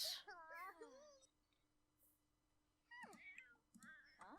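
Cat meowing in the Sims 4 life-simulation game, several rising and falling meows near and fairly loud at the start, then a quiet gap before more mewing calls toward the end, with no talk over them.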